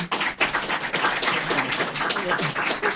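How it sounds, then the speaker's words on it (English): A smaller audience at a town hall claps for the panelists, uneven, fairly close hand claps with a voice speaking over them. "Round of applause for our panelists."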